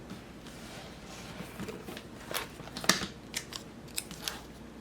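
Scissors snip out a small cereal bowl sticker shape from planner sticker paper, a series of crisp close cuts with a few sharper snips toward the end, no talking.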